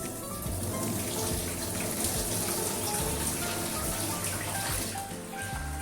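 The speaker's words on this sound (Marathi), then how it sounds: "आता मी हे गहू दोन तीनदा स्वच्छ पाण्याने धुवून घेते आहे" Wheat grains are swished and rinsed in clean water in a kitchen, giving a continuous close splashing and running-water wash with no pauses.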